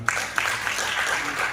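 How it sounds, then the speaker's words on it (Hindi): Applause from an audience at a collaboration meeting, a steady crackling wash of clapping with a few sharper individual claps, filling the short moment without talk. "इस कोलैबोरेशन मीट के लिए जोरदार तालियां हो"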